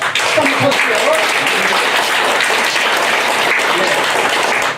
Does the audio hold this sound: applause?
yes